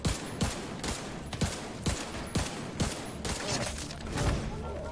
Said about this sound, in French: Une vraie gatling.